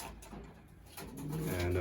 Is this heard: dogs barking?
no